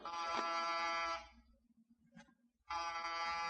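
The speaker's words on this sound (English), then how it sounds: "No answer to the door buzzer." A door buzzer sounds twice, each a harsh electric buzz of about a second, separated by a short quiet gap.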